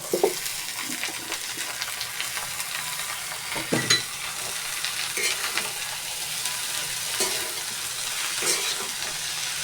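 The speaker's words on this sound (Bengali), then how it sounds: "লাল শাকটা দিয়ে দেবো" Red amaranth greens just added to a pan of fried onion, garlic and dried chillies, with a steady broad hiss of sizzling throughout and a few soft stirring knocks, close, without talk.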